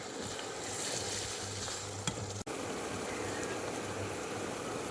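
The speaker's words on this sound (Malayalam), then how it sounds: "ഇതിൽ ഇഞ്ചി, പച്ചമുളക്, കറിവേപ്പില ഇതെല്ലാം കൂടെ നന്നായിട്ടൊന്ന് മൂപ്പിച്ചെടുക്കണം" Ginger, green chillies and curry leaves frying in oil for a spicy fish pickle give a steady close sizzle, broken by a brief clink and a short dip, with no talking.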